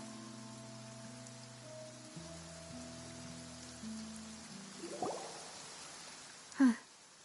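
Steady soft rain hiss in the game Genshin Impact, falling continuously beneath a low musical drone, with a sharp brighter splash or impact sound near the end.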